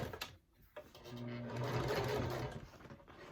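A domestic sewing machine stitches a bowler bag in a short, close burst of rapid mechanical whirring that starts after a brief pause and then slows to a stop.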